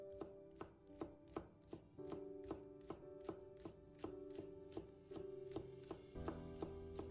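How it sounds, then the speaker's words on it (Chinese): A knife chops green onions into small scallion pieces on a cutting board, its crisp, loud strikes landing in a steady, even rhythm for several seconds, with no voices. "把它切成葱花"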